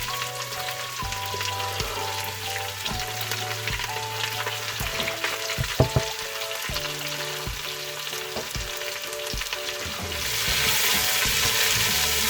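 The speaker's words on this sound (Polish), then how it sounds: "I te warzywa podsmażam właśnie na tym smołczku" Onion, leek, parsley and celery fry in lard with caraway, giving a steady close sizzle with spatula stirring clatters throughout and a tonal background melody underneath; the hiss grows louder near the end.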